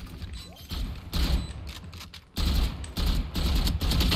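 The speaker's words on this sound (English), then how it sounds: "They're shooting me." Bursts of automatic gunfire from the tactical shooter Valorant, loud and close, rattling in repeated volleys with brief gaps between them, no talking.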